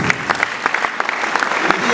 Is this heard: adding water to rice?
no